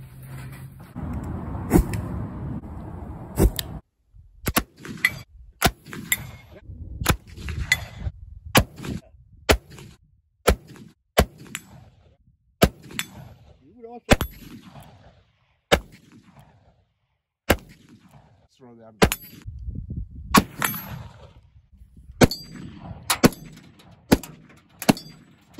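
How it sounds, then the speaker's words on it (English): Firearm shots using homemade black powder ring out outdoors, roughly twenty sharp loud reports spaced irregularly, each followed by a rumbling echo, with a stretch of low handling noise at the start. "Now it's time to go shooting."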